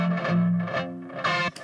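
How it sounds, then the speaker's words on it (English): Musical phrases run through the Higher Hz Delay VST plugin set to a long echo with narrowed stereo width, so sustained tones repeat and smear into trailing copies, a short processed passage with no voice. "So I've gone for a longer echo overall, again narrowing down its width."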